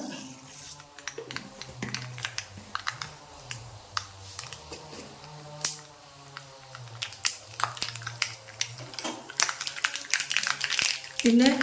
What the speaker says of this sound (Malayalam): അപ്പോൾ നമ്മുടെ വെളിച്ചെണ്ണ ചൂടായിട്ടുണ്ട് ഇതിലേക്ക് ഞാൻ ഒരു അര ടീസ്പൂൺ കടുക് ഇട്ട് കൊടുക്കുകയാണ്